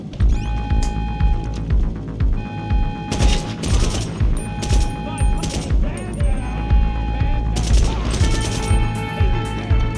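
Dense gunfire in GTA Online, rapid bursts and volleys of shots crackling over a steady loud game soundscape, with a brief pause before the shooting picks up again.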